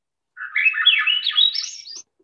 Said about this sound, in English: Lovely flute like song of the Swainson's thrush.